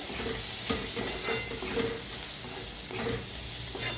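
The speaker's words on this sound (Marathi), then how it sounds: "टाकूया लाल तिखट टाकूया हळद छान असं मिक्स करून भाजून घेऊया" Tomatoes with red chili powder and turmeric roasting in a pan, a close steady sizzle broken by rhythmic scraping strokes of the spoon as the masala is stirred, with no talking.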